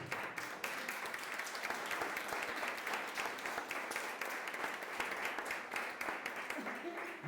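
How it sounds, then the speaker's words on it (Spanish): A church congregation claps steadily together, a sustained even patter of many hands across the whole stretch at moderate volume. "Dele ese aplauso al Rey."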